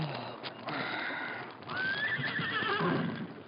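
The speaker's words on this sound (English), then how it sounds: "Fred stirred and sat up as he heard the whinny of a horse close by." A horse whinnies loudly and close in a radio drama sound effect, a long rising and falling neigh with faint clip-clop and rustling beneath it.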